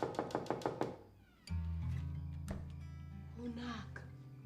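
Knocking on a door at night, a quick series of about six sharp, close raps, followed by a low sustained tone and a cat-like wail, fairly quiet overall.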